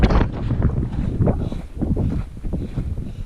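Strong wind buffets the microphone on the exposed summit of Mt. Lassen, a volcanic peak, in low, gusty roars that rise and fall continuously, with no voices.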